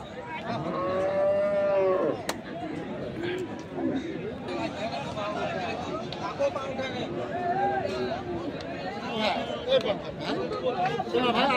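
Cattle moo repeatedly at a busy cattle market, long low calls rising and falling over constant crowd chatter and nearby voices.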